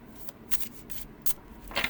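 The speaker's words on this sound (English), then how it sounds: "So, no right or wrong way to shuffle your deck. You can do the poker rifle shuffle. You can do the overhand shuffle." A Tarot of Baseball card deck is shuffled in a few soft, quick riffling bursts, quiet and close, with short pauses between them.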